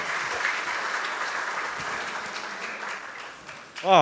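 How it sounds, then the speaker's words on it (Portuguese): Audience applause for the moderator of a business debate panel, a steady, dense wash of clapping from a crowd lasting several seconds before fading, with a voice starting to speak at the very end. "Palmas para o Nelson, né? Já bateu, vamos bater de novo."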